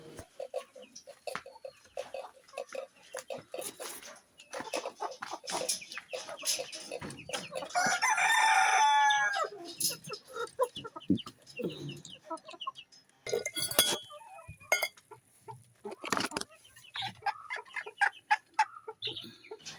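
Chickens cluck in a farmyard while a rooster crows loudly once midway, with other bird calls and a voice talking intermittently over the flock.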